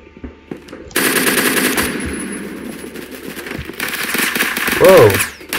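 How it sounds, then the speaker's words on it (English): Rapid automatic gunfire in the video game Phantom Forces crackles in loud bursts, with a player talking over it. "Whoa, he shot right through the wall."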